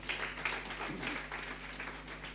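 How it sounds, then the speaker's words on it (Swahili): Congregation at a Sunday church service claps for a visiting sister, a moderate steady spread of applause from many hands, fairly distant with room echo and a low hum underneath. "Pigieni dada yetu makofi."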